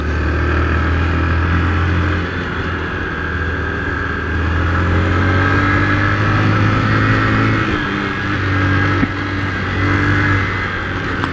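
A Honda Fan 150 motorcycle engine runs steadily near the mic, its revs rising and falling in a continuous loud drone with a brief dip around the middle, and no one talks over it.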